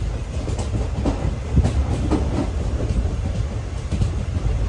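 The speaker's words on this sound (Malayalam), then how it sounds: "മൺട്രോത്തുരുത്ത് റെയിൽവേ സ്റ്റേഷനിൽ നമ്മുടെ വണ്ടി എടുത്തിരിക്കുകയാണ്" A passenger train on the Kollam–Thiruvananthapuram line rumbles along the rails at Munroe Island station, with deep steady roar and rhythmic clacking of wheels, loud and continuous with no talking.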